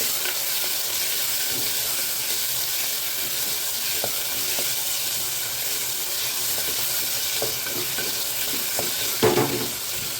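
Chopped tomatoes sautéing in a pan for tomato rice, a continuous close sizzle with occasional stirring scrapes and a louder clatter near the end, with no talk.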